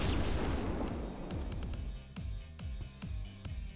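Fireball spell attack in the fantasy RPG Epic Battle Fantasy 4, opening with a loud whooshing blast that fades, followed by a series of rhythmic popping impacts, each a short thud.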